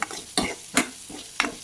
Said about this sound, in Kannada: ಒಗ್ಗರಣೆ ಹಾಕತ್ತೀನಿ